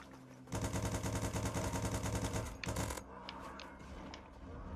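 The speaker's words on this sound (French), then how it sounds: "quand on tire un obus maintenant, voilà, on entend le obus qui se recharge" Tank shell reloading after firing in the video game Revolt: a loud burst of rapid, dense mechanical clatter runs for about two seconds, then a short metallic clunk, followed by a few faint ticks over a low engine hum.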